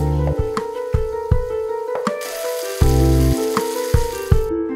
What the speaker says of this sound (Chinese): 热锅下少许的猪油，滑入老豆腐，小火煎至两面微黄。